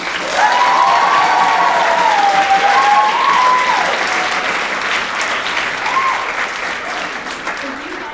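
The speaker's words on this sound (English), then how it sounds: "A round of applause for them." A concert audience gives sustained, loud applause to orchestra musicians after an Afghan music performance. Dense clapping fills the hall and slowly eases off, with some voices and a few tonal calls mixed in.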